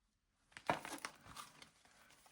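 Tarot cards drawn from a deck: a brief close crinkling shuffle and slide of cards lasting a couple of seconds, faint and alone.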